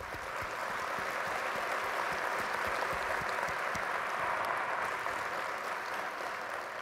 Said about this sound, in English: Please join me in giving one big round of applause to the 4 finalists.